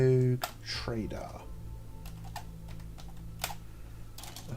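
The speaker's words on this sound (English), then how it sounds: "I need to clean my keyboard out." Someone types on a computer keyboard, the keys giving scattered, fairly close clicks in irregular bursts after a brief voice at the start.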